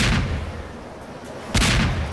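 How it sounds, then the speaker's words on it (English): Two heavy booming blasts in Garry's Mod, set off with the press of a button, one at the very start and a second louder burst about a second and a half later, each with a sharp crack and rumbling tail. "every time I press this, it causes an explosion"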